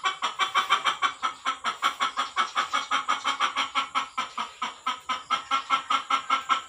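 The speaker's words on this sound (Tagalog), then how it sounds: "Maingay po yung manok natin" A chicken clucks in a fast, steady rhythm, dozens of short repeated calls close by with no talking.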